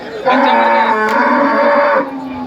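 A cow at a cattle market in Dhule, India, gives one loud, drawn-out moo, close by, lasting nearly two seconds before cutting off.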